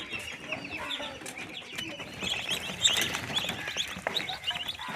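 Chinese ducks on a farm in Assam give off a busy, continuous chatter of high chirps and calls, with no voices over the flock.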